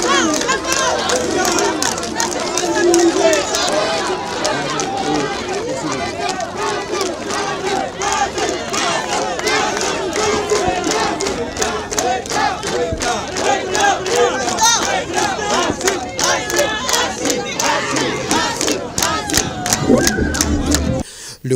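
A large crowd cheers and shouts as a head of state greets people in a public crowd in Mali; loud, dense roaring voices with scattered whistles and clapping continue throughout.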